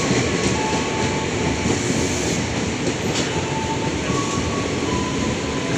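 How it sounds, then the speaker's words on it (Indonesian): A KRL commuter train on the Jakarta Kota to Bogor line stopping at Tebet station, with a steady loud rumble of rail cars, faint clickety-clack and a few brief high wheel squeals, no talk. "KRL dari Jakarta Kota menuju Bogor, berhenti di stasiun Tebet."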